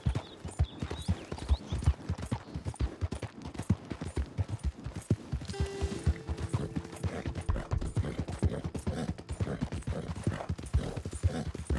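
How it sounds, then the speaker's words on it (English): A horse gallops hard in the video game Red Dead Redemption, with rapid, rhythmic hoofbeats pounding continuously and close up throughout. "My poor horse. I'm making her run so much."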